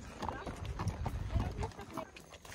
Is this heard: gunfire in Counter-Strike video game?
no